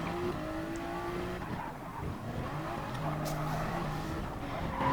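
Race cars in Gran Turismo Sport leave the pit lane on fresh tires, with steady engine drone and repeated tire squeal as they corner, loud and continuous with no talking.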